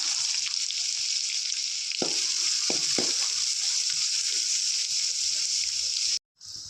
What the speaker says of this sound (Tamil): வெங்காயம் வணங்கிட்டுருக்கு